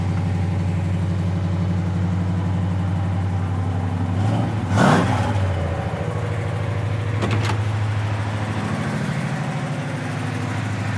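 A 1969 Chevrolet El Camino SS with a 396 V8 and dual exhaust idles with a deep, steady burble, broken by two sharp revs that swell loudly and fall back to idle; close by, no talk.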